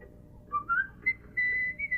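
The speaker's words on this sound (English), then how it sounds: "Why, you whistling, kid?" A person whistles a short, breezy tune in several clear phrases, with a held note near the middle, against a quiet background in a Western film scene.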